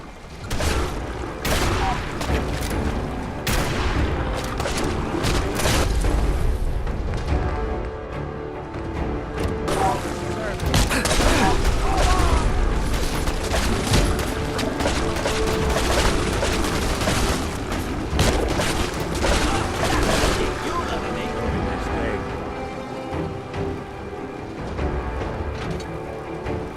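Gunfire in the Fallout 4 Far Harbor expansion: dense, sustained volleys of rifle and automatic shots with booming impacts, continuous and loud across the whole stretch, with brief shouted voices mixed in.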